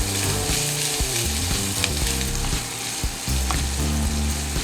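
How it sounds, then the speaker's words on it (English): Bologna sautés in olive oil with a loud, dense, continuous sizzle and crackle, with faint background music beneath it and no talking. "I'm gonna saute in olive oil"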